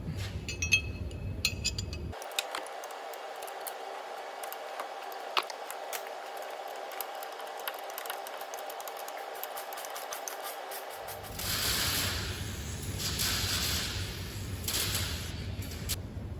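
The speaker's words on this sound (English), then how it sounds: "you're just going to want a 19mm socket for that bottom ball joint bolt" Ratcheting and clinking of a 19mm socket on the lower ball joint bolt of a Citroen C1 front hub, steady mechanical rattling through most of the stretch, close and moderately loud, with no talk over it.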